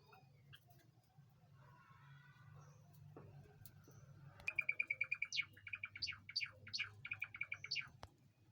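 A breeding pair of black and silver Java sparrows gives bright, clipped chirps in quick repeated bursts, fairly close over a low background hum.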